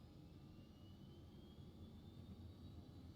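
A simulated Embraer Phenom 300 jet engine spooling up in X-Plane 12, a faint steady roar with a thin whine slowly rising in pitch, heard alone without talk.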